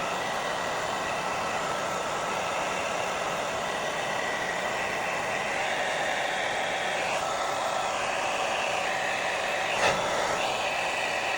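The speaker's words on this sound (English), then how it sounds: "So now with my dryer on cold air" A hair dryer on its cold setting blows steadily, a constant rushing whoosh that stays even and fairly loud through the whole stretch, used while setting a glued lace frontal wig, with a brief click near the end.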